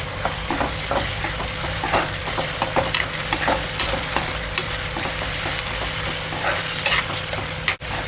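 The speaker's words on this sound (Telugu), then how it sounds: "పచ్చివాసన పోయేంత వరకు ఫ్రై చేసుకోవాలండి అల్లం వెల్లుల్లిపాయ పేస్ట్." Ginger garlic paste fries with lightly browned onions in a pan for a tomato egg fry, giving a steady close sizzle broken by repeated scraping stir strokes, with no talking.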